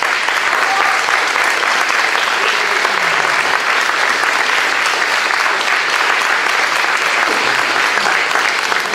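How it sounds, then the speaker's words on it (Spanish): At a tango orchestra show, a crowd gives the dancers loud, dense, sustained applause that stays at an even level throughout, with a faint voice briefly underneath. "le vamos a dar un fuerte aplauso a ellos."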